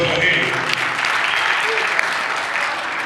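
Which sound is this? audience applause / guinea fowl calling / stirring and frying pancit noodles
audience applause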